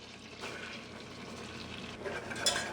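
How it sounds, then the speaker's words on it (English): Butter and flour roux being whisked together in a saucepan, a soft, steady bubbling sizzle with light scraping strokes, close and fairly quiet with no talk. "whisk all that together. We're just going to make a simple roux"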